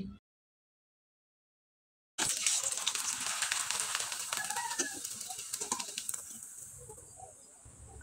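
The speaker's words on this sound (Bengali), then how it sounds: "এখন চলুন আপনাদের কয়েকটা তেলে ভেজে দেখিয়ে দিচ্ছি" Rice papads made from raw rice frying in hot oil: after a brief silence, a loud, steady sizzle bursts in and holds with crackling pops, slowly easing off toward the end.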